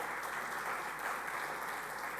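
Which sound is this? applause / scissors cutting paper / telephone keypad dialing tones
applause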